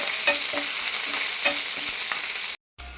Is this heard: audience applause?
no